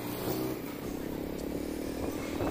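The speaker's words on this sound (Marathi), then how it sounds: "ज्युपिटर 125 सी सीची गाडीवरनं चाललं आहे, त्याचा आवाज खूप इंजिनचा कमी आहे" Riding a Jupiter 125cc scooter on a road, a quiet engine hum is mostly buried under steady, loud wind buffeting, constant throughout with no talking.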